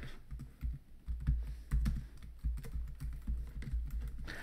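Typing on a computer keyboard while filling out an online business form: quiet, close, uneven key taps and soft thuds in quick irregular runs, with no talk.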